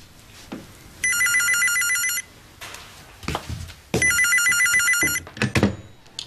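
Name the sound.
telephone ringing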